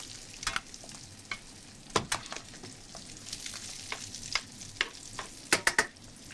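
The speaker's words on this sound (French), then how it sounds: "On va un petit peu retourner nos légumes." Vegetables are turned in a frying pan, a soft continuous sizzle broken by repeated sharp scrapes and clacks of a utensil against the pan at an uneven rhythm.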